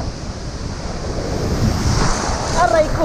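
Ocean waves surge and splash continuously in broadband wash with strong wind noise at a rough, windy shore fishing spot, building louder toward the end.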